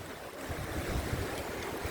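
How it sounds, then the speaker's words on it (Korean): Strong surf breaking over coastal fishing rocks at Jumunjin, Gangneung, in a gale, with continuous loud rushing water and heavy wind buffeting the microphone, no voices. "저기 파도가 막 넘쳐가지고요."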